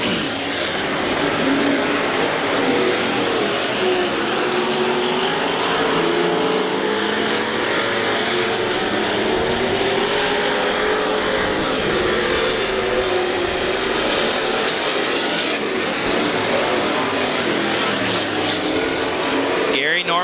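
Street stock race cars roar around a dirt track at a Heart O Texas feature race, a loud continuous blend of engines rising and falling as cars pass, with an announcer's voice over the din.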